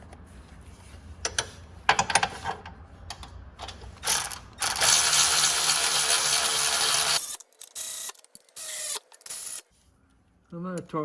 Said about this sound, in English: I'm going to torque that to about 50 foot-pounds of torque